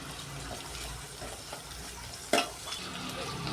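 Green chilli, onion, tomato and mint frying in a pan for chicken biryani: a steady, fairly quiet sizzle with soft stirring scrapes and one sharp clink of a utensil against the pan.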